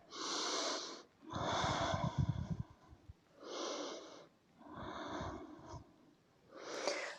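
A person hanging upside down on an aerial rig breathes heavily and audibly: five slow, deep, wheezy inhale and exhale cycles, close and alone, with some rough snorting texture.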